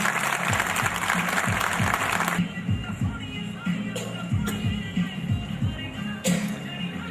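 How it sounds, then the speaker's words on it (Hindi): An audience at a Hindi kavi sammelan poetry gathering claps, a loud dense burst of applause for about two seconds, then thins into scattered claps over a low hum. "एक बार तालियां बजाकर मुझे आदेश दें।"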